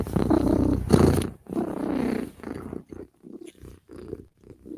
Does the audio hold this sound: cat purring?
yes